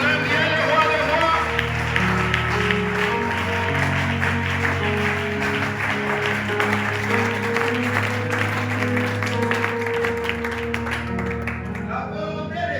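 A church congregation applauding and acclaiming Jesus, loud sustained clapping and cheering from a crowd with voices and music mixed in, tapering off near the end.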